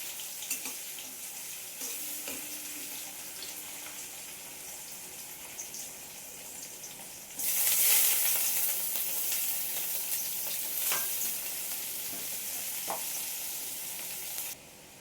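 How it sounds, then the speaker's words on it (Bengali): Chopped onion sizzling in hot oil in a pan for a lentil dal tempering, stirred now and then, with a steady fry noise that swells into a louder hiss midway before easing off. "এবার পেঁয়াজটা একটু নেড়ে চেড়ে লাল লাল করে ভেজে পেঁয়াজটা ভাজা ভাজা হয়ে এসছে।"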